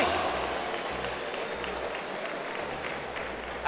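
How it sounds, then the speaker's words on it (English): Sustained applause from a crowd at an MMA fight night after a bout, dense and steady throughout with a slight swell at the very end. "can we get a huge round of applause for both these fighters?"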